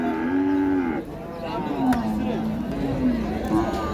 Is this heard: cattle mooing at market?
yes